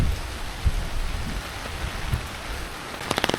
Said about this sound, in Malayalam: ഇതാണ് ഗൈസ് മഴ ഒരു വരമാണെന്ന് പറയുന്നത്